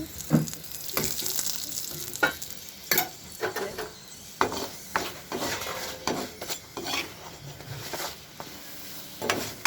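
Sattu-stuffed rotis sizzle steadily in hot oil in a pan, broken by frequent scraping and stirring strokes of a utensil against the pan.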